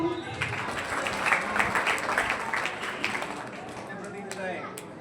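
Applause from an audience at an annual exam results ceremony, a steady patter of many hands that runs through the whole stretch with voices mixed in underneath.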